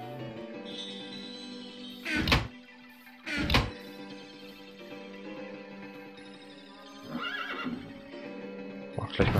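A horse in the Minecraft video game gives several loud whinnies at intervals over a steady background of in-game ambient sound.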